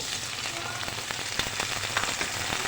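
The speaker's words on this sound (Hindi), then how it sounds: "थोड़ा सा ये हो गया फ्राई। अब मैं इसके अंदर ये टमाटर ऐड कर दूँगी।" Chopped tomatoes hitting hot oil in a pan of frying aloo methi, a loud, dense, continuous sizzle with small crackles and pops running for a few seconds.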